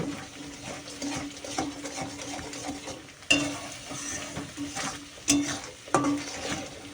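Masala sizzles in hot oil in a pan while a spoon stirs it again and again, with soft frying crackle throughout and a few sharp scrapes and clinks against the pan.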